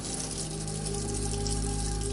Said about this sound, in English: Around midnight, I woke up to the sound of running water.